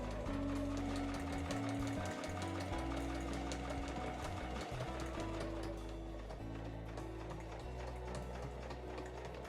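A home sewing machine stitches layered 8-ounce Marimekko canvas for a tote bag. It gives a steady mechanical hum with a rapid needle chatter, close and continuous, shifting slightly in pitch as the sewing speed changes.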